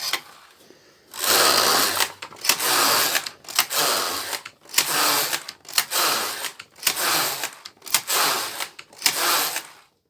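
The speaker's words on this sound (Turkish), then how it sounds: "20'ye kadar düz örüyorum." A Passap hand knitting machine knits rows of a seamless child's sock, the carriage sliding back and forth in nine rhythmic rasping swipes, each about a second long, separated by brief pauses, close and loud without speech.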